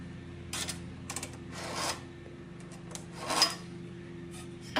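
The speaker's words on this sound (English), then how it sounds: "I'm going to first put the square here and then we can draw the line." A pencil draws along a carpenter's square on a wooden stair stringer, making soft, brief scratchy strokes with small taps in between, over a low steady hum.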